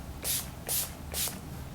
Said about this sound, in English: I'm gonna prime my skin with this Urban Decay Rebound Primer Spray.